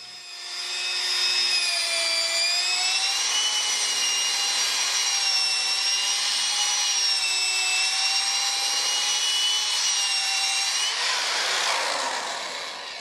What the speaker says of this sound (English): I'll go back over it and polish it out using a foam polishing pad on my drill